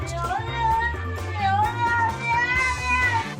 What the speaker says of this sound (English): Oh, listen to that. This cat is mad.